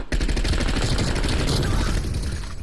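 Call of Duty: Cold War gunfire comes as a rapid, heavy stream of close shots and automatic bursts that fill the whole moment, with a faint voice underneath.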